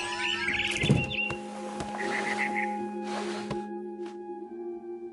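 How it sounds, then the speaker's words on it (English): A barn swallow chirps outside a window near its nest, giving a few short, bright calls over a steady background hum. "Then I heard chirping outside my window. It was a barn swallow going back to her nest."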